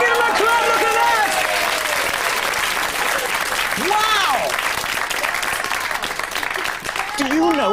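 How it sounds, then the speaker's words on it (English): Loud, sustained audience applause and clapping at a live Sooty puppet show, a dense wash of hands with voices calling out over it throughout. "Give him a clap!"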